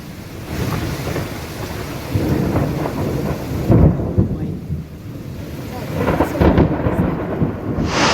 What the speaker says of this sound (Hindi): तेज आंधी तूफान और बिजली कड़कने के साथ साथ तेज बारिश हुई है।